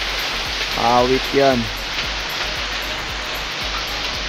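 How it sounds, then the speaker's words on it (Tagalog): Heavy rain pours steadily in a constant loud hiss, with someone speaking briefly over it. "So ayun, lakas pa rin ng ulan."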